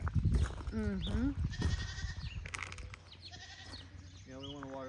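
Goats on a farm give several wavering bleats near the microphone, some overlapping, with people talking in between.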